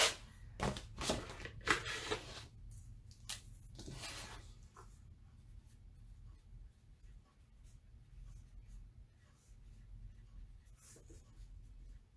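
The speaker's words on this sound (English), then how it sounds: "I like to write on the back of my transfers the name of them. So I'll do that while I wait on this a second." Pen scratching across the back of chalk transfers, a burst of brisk close strokes at the start, then fainter intermittent writing and quiet handling noises.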